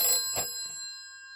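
A telephone rings at a workplace, a bright metallic bell trill with sustained ringing overtones that burst at the start, then decay slowly into a lingering shimmer, close and fairly loud with no voices.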